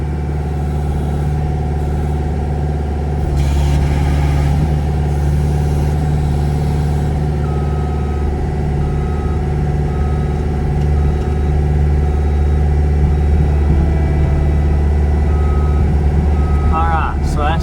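An excavator and a skid steer run steadily on a farm while hay bales are loaded, their engines droning loud and continuous with a brief rise in revs, and a voice talks over the machinery.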